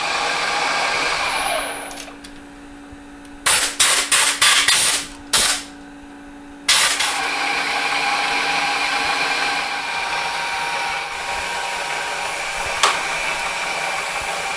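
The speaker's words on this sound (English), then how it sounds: "Using auto feed on the mill." Milling machine cutting on power auto feed while machining a spring cut-off tool, a steady loud whirring grind broken by a cluster of sharp clunks and knocks partway through before the even cutting drone resumes.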